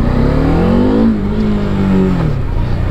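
A Bajaj Dominar 400 motorcycle engine with a misfire problem revs up close by, the pitch rising and falling across two blips of the throttle with a loud, rough, continuous roar.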